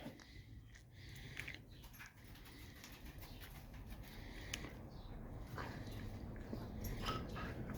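A dog in a workshop makes faint whimpers and soft yips, scattered and quiet against a low background hum.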